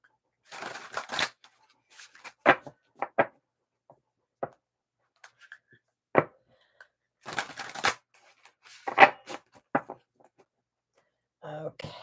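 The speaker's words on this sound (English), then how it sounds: "Get them shuffled up first." A deck of tarot cards gets shuffled in a quiet room, giving short, separate bursts of riffling and flicking with silent gaps between them, close and fairly crisp.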